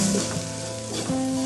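Chicken with turmeric and ground pepper sizzling in a frying pan while being stirred, a steady close frying hiss with soft scraping, no voices.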